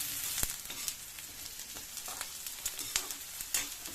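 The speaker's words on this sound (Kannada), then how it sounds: "ಇದು ಎಣ್ಣೆಯಲ್ಲಿ ಚೆನ್ನಾಗಿ ಫ್ರೈ ಆಗಬೇಕು" Sliced okra frying in hot oil, a steady close crackling sizzle with scattered sharp pops and occasional soft stirring.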